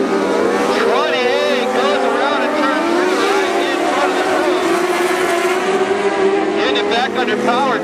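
Dwarf race cars racing under power at Barona Speedway, loud revving engines rising and falling as they pass, continuous throughout, with a commentator talking over the noise.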